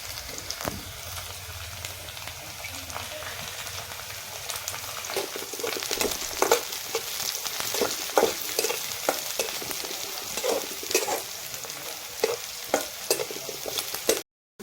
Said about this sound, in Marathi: तेलामध्ये लसूण कांदा परतून घेतला